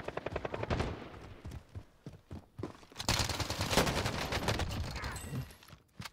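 Rifle gunfire in a Call of Duty-style first-person shooter game, rapid overlapping bursts and sharp cracks dense across the stretch, busy battlefield din with a fairly low overall level.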